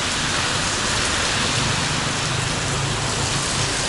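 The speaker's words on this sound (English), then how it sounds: "It's storms here in Danang at the moment" Heavy rain falls during a storm in Danang, Vietnam, a dense, unbroken hiss that stays loud and even throughout, with no voices or other distinct sounds.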